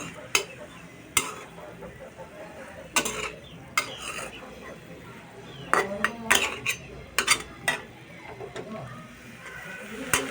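Pumpkin leaves stirred in a cooking pan: sharp metal clinks and scrapes come in scattered bursts, with a faint sizzle underneath and occasional low background voices.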